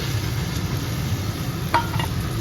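Spice paste with tomato, salt, turmeric, chili and cumin powder fries in a pan, giving a steady soft sizzle with a couple of brief scraping stirs near the end.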